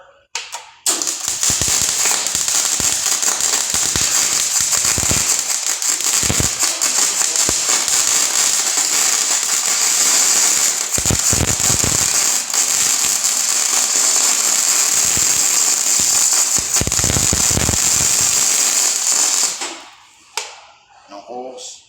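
Arc welding gives a steady, loud sizzling crackle that runs for nearly twenty seconds with scattered pops, then stops abruptly, followed by brief faint sounds.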